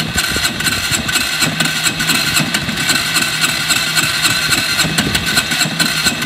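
A Yamaha XT 125 X motorcycle engine idles steadily nearby after starting, a low throbbing rumble with a continuous buzzing hum and no voices.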